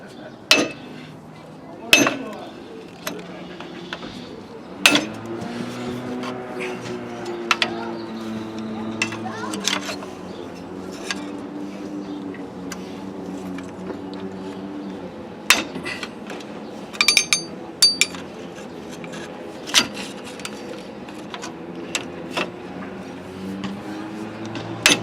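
Sharp metallic hammer strikes on a screwdriver against a Jeep YJ rear brake part ring out at irregular intervals, some loud and isolated, others in quick clusters, over a steady low mechanical hum with faint background talk.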